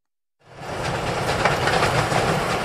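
A train on the Semmering railway, Austria's mountain line, rumbling in after a brief silence and rolling steadily with rhythmic wheel clatter, close and continuous.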